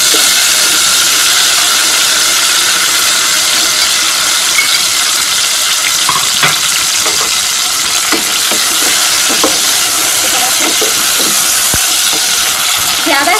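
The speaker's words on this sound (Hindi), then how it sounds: "ये देखें, ये फ्राई हो रही है।" Okra (bhindi) with whole spices frying in hot desi ghee gives a steady, loud, close hiss and sizzle, with occasional crackles and light stirring knocks throughout.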